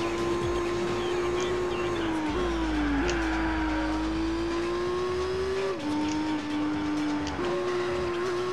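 A Nissan 350Z in the racing game Gran Turismo 4 holds a steady, loud engine drone, with brief drops and rises in pitch as it shifts gears and accelerates through the race.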